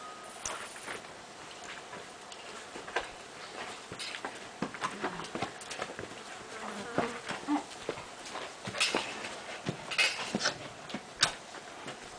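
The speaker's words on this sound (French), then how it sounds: "Chez nous, il y a pas mal de mouches." Flies buzz in a rural outdoor setting, their faint buzzing coming and going near and far under scattered clicks and taps, with no talk.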